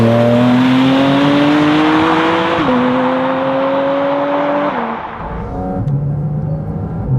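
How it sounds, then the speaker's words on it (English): A Porsche 718 Cayman GT4 RS flat-six on Cup 2 tyres on a wet track, revving hard through the gears in a rising, howling pitch with brief dips at shifts, loud and close, then easing off. "let's go and open it up and enjoy that glorious flat 6 behind me"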